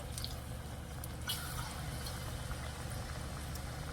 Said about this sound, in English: let's start dropping these guys into the oil